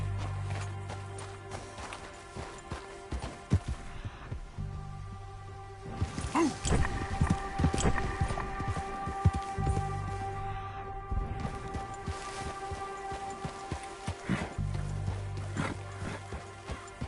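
Horse hooves clip-clop in a PS4 video game, an uneven run of hoof beats over a steady low game backdrop, louder in the middle stretch and easing off in between.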